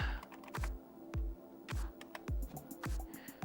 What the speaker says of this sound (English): Oh, there's nothing like using the IBM keyboard.